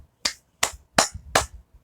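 One person claps four times in a slow, even rhythm, each clap sharp, close and bright with a quick decay, in an otherwise quiet room.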